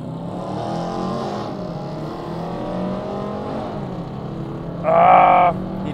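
Kia K5 GT and Dodge Charger 5.7 Hemi drag racing in normal mode with traction control on, two engines droning and roaring steadily under wind, with a brief louder, higher-pitched surge near the end.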